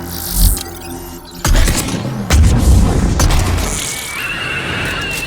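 A heavy sniper rifle shot in Mass Effect 3, one deep booming blast followed by rumbling impacts and a fading hum, loud and close, with no voices.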